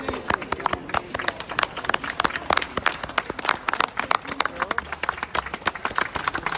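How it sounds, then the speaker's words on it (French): Crowd clapping for the Italian police, a dense, steady patter of many hands with scattered voices mixed in throughout. "Venez, on va applaudir la police pour les médias."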